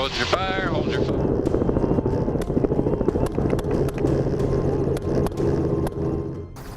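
Helicopter hovering and shifting during a wild boar hunt, a loud steady rotor thump with dense broadband roar throughout, close and continuous.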